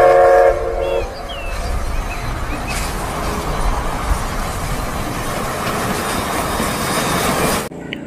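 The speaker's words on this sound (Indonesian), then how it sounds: "Wow, di sini ada kereta api uap." A steam train rumbles along the rails, with a brief whistle at the start and a steady clattering roll that holds close and loud before cutting off near the end.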